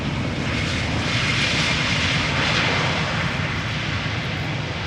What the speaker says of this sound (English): Star Alliance livery, A319. Regular A319